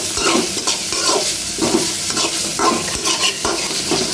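Onions fry and sizzle loudly in a pan for an egg bhuna, with a utensil stirring and scraping through them in repeated sweeps over a constant hiss.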